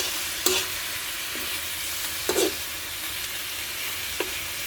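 Pork adobo sizzles in a pan with soy sauce and vinegar, a steady low hiss broken by a few distinct spoon scrapes and knocks against the pan, close by with no voices.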